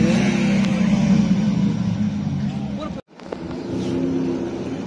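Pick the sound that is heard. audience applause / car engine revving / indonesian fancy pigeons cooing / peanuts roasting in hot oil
car engine revving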